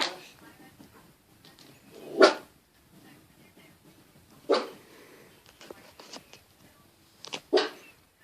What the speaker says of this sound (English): What are you growling at?